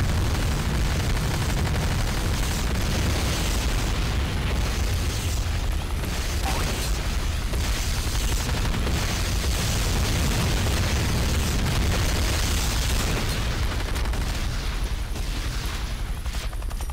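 Destroyed GDI Tiberium Refinery exploding in a video game, a dense, loud broadband rumble of blasts and debris that rolls on continuously with heavy low-end boom throughout.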